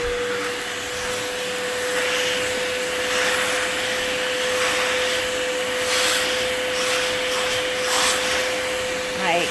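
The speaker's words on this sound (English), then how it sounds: "I started cleaning it with this Bissell" Steady, loud whine of a small Bissell carpet cleaner's motor and suction working root beer out of a mattress, a constant drone with a faint scrubbing texture throughout.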